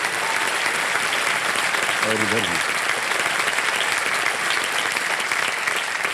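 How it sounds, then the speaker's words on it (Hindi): A TV quiz show studio audience gives loud, continuous applause that holds steady throughout, while someone briefly speaks over it partway through. "तालियां बज जाए इनके लिए"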